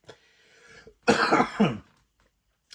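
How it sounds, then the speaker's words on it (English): A single harsh cough, close and loud, follows a faint breathy sound, then silence. "As you're greeted with a cough"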